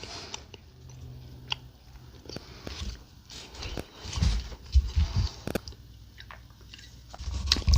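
Raw oatmeal being chewed close up, a series of soft crunchy bites and mashing chews that grow louder toward the end, with faint background movement.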